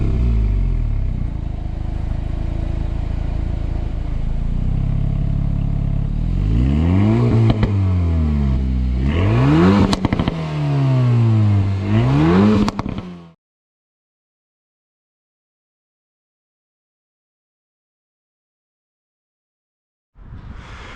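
An Alpine A110 sports car driving, its engine droning steadily then revving up and down through several gear changes with rising and falling pitch, loud and close from inside, before cutting to silence and returning briefly at the end.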